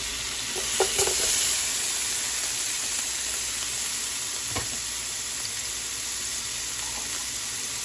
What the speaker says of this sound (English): you're going to drop in your onions